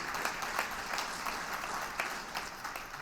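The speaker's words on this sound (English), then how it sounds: "giving yourselves a round of applause" Steady applause from a crowd, a dense patter of clapping that holds at an even level throughout, heard at some distance.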